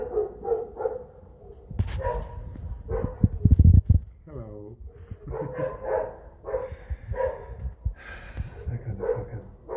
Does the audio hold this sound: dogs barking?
yes